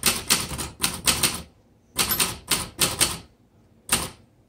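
A 1973 Facit vintage manual typewriter being typed on: crisp mechanical key strikes come in quick clusters of three or four, separated by brief pauses, close and clear with no talking.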